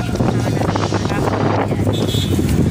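Loud wind rushes and gusts against the microphone, a constant blustery roar close by, with faint muffled voices beneath it.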